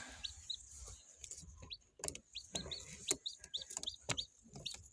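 Newly hatched domestic chicks cheep in a steady stream of short, high peeps while hens cluck softly close by, with scattered scratching noises.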